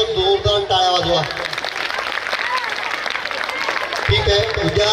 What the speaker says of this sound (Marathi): या सगळ्यासाठी एकदम जोरदार टाळ्या वाजवा